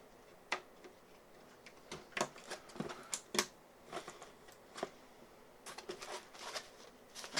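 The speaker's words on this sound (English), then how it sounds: "push it down until it clicks" A server memory module being pressed into its slot during an upgrade to an Intel i7 8700K system with 64GB of RAM: a quiet series of small plastic clicks and taps, close by and fairly faint, with no talking.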